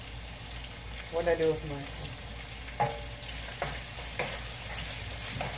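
Onion fries in a pan with a steady low sizzle, broken by a few clinks and stirring scrapes, while a person talks briefly nearby.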